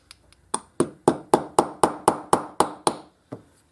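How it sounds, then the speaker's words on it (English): Roughly ten sharp metallic hammer whacks in a fairly steady rhythm drive a pin into a High Standard pistol. The strikes are close and crisp, then a short pause comes before one last tap. "give it a couple of whacks."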